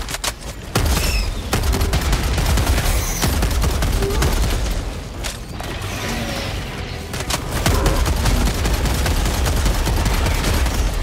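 Rapid bursts of gunfire from a powerful weapon in the sci-fi shooter Helldivers 2, loud and sustained across the clip with heavy booming impacts and brief pauses between volleys, during a mission against Terminid bugs.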